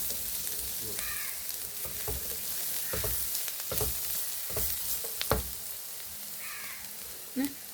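Coriander powder frying with onion and ginger in a pan for a prawn curry gives a soft, steady sizzle with occasional knocks of a spoon against the pan and faint bird calls in the background.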